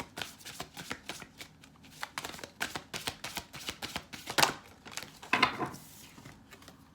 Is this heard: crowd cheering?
no